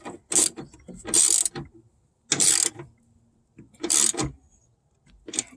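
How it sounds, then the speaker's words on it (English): A ratchet tightening bolts on a Roxor during fuel filter work clicks in several quick bursts of cranking, separated by short pauses, close up and loud with a metallic rasp. "you can tighten these bolts back down"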